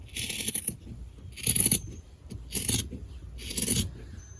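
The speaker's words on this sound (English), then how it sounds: "I'm going to follow the line and I'm going to cut this piece out" Scissors cut through cotton fabric along an ironed fold line in four steady snipping bursts, each a crisp, close shearing rasp separated by short pauses.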